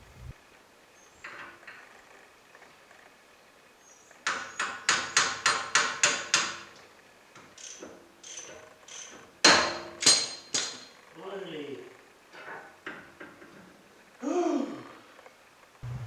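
A run of sharp metallic hammer blows on a Land Cruiser 79 steering tie rod end, about seven in quick succession, then scattered heavier strikes and clanks with pauses between them.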